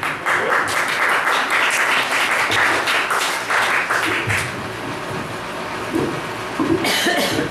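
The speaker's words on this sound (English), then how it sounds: "Everybody give a big round of applause for Bailey Buckner." A poetry night audience applauds warmly, a dense wash of clapping that swells and then tapers off, with a cough or two near the end.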